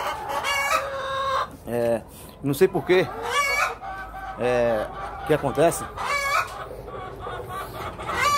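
Embrapa 051 laying hens cluck and squawk in the morning, a loud, busy run of bursts and a rooster-like crow, while someone speaks Portuguese between and over them.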